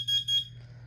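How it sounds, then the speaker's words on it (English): A Kidde carbon monoxide alarm under test gives two short, shrill high-pitched beeps over a low steady hum, close and moderately loud; no talk. "Warning, carbon monoxide."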